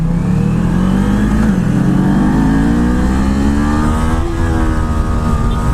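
A 2019 Kawasaki Z400 motorcycle engine revs hard and loud with the clutch slipping, its pitch climbing steadily, dipping briefly, then rising again in one continuous close-up drone.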